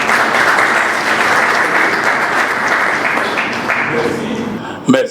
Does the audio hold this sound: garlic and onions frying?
no